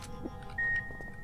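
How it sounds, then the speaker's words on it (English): A short electronic beep from the horror video game Penumbra: Black Plague, a single steady tone sounding once against a quiet room-tone background. "Beep."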